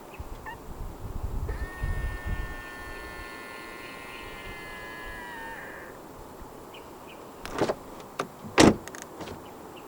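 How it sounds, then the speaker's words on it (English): On a 2025 Volkswagen Arteon, a window motor whirs briefly as the frameless glass drops, followed by a door unlatching and thudding open with a couple of sharp clicks. "The windows dip down a little bit as you open the doors to clear the door frame."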